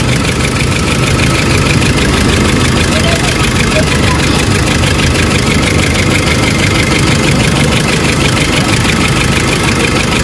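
A loud Nissan Navara diesel engine with low power and fuel knocking runs continuously up close with an uneven, rough knocking chug and a steady hissing roar over it.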